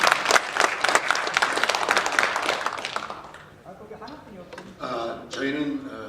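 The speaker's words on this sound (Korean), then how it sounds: "그런 의미에서 큰 박수 다시 한번 부탁드리겠습니다." Audience applause at the Korean event 가자! 희망한국 2015, dense clapping for about three seconds that fades out, followed by someone speaking into a microphone.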